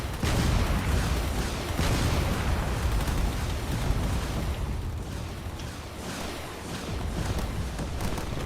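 A large explosion of a falling cruiser in a video game battle, heard as continuous rumbling blasts and bursting noise at a steady, moderately loud level.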